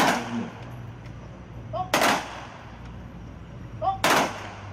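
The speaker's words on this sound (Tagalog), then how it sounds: "21 gun salute" Rifle volleys of a 21-gun salute at an outdoor veterans' wreath-laying ceremony in the Philippines, two sharp loud cracks spaced about two seconds apart over steady background hum.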